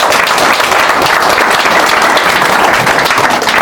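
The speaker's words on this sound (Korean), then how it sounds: "박수 한번 부탁드립니다." A lecture audience claps in loud, dense, continuous applause throughout, close and full, with no talk over it.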